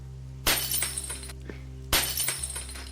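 Soul crystals shattering like breaking glass, two sharp loud crashes about a second and a half apart, each trailing off into tinkling fragments.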